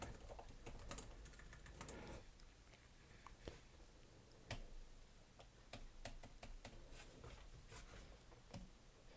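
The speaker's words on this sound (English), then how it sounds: "So let's just give it a quick type here." Quick typing on the keyboard of an HP OmniBook Ultra 14 laptop, a soft, close run of irregular key clicks with a few sharper taps.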